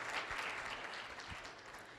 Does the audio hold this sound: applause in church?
yes